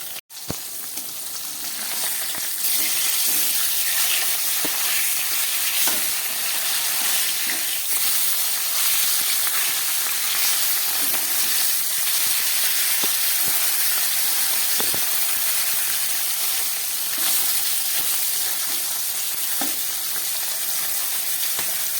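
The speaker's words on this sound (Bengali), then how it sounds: "মাছটাকে ভালো করে কেটে ধুয়ে নুন হলুদ মাখিয়ে নিয়েছি, নিয়ে এখন ভেজে নিচ্ছি।" Fish rubbed with salt and turmeric frying in hot oil, a sharp knock at the start followed by a loud, close, unbroken sizzle and spatter that keeps going with occasional small crackles.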